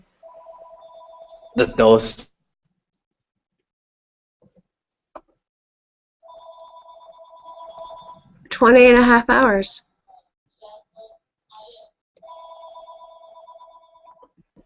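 A phone rings in short repeated electronic trill bursts, separated by pauses, fairly clear and close, while a person speaks briefly between the rings.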